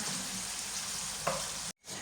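Steady, close sizzling of vegetables frying in a pan, a brief stir partway through, then a short cut to silence before the sizzle returns.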